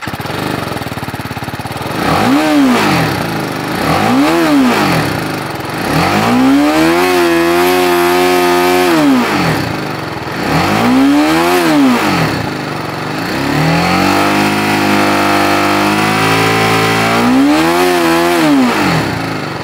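A BMW G310R with a 313cc liquid-cooled engine, ridden on a showroom test ride, revs hard in about six rising-and-falling sweeps, close and loud, with steady engine drone between the pulls and no talking.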